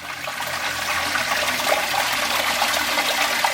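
Steady rushing water pouring over the spillway of a box wetland filter on a sleeper-built koi pond, a continuous bubbling gush with no talk.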